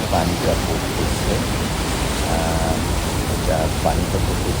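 Niagara Falls seen from the American side, water plunging toward Lake Ontario, makes a steady, dense roar like heavy rain that fills the whole clip, with a voice faintly talking over it.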